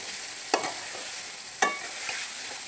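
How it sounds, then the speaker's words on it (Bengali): Fish being stirred and fried in a pan while cooking kachu lati (taro stolons), with two sharp scraping stirs over a steady sizzle that carries through the whole stretch. "মাছটা ভালো মতো কষিয়ে তারপর লতিগুলো দিয়ে দিব।"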